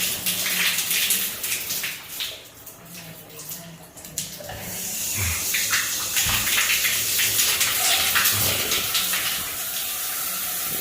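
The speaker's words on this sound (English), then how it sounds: "I turned the water on because I wanted to check the water pressure" Rain shower running in a Hilton Las Vegas hotel bathroom at Resorts World, a steady, close, loud rush of water that dips briefly and then pours on continuously.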